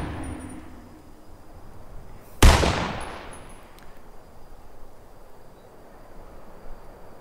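A single sharp gunshot cracks out mid-scene in Fortnite, loud and close with a long decaying tail, over quiet game ambience with no other shots.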